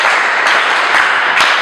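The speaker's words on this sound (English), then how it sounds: "Let's clap for ourselves." A group clapping together at a public gathering, a steady dense patter of applause with a few sharper accents, sustained and fairly loud throughout.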